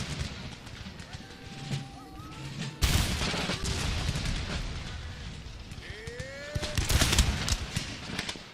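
Musket volleys crackle in the Empire: Total War battle for Moscow, with dense bursts of gunfire and booming impacts, a sharp loud onset near the middle and another swell later, under game voices and shouted commands.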